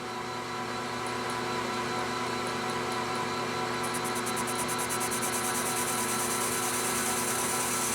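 Lathe taking a parting cut on a custom beer tap handle at a slowed 440 RPM with a large parting bit, fed by hand; a steady, loud machine hum and hiss runs throughout, with a fine rapid chatter emerging in the second half.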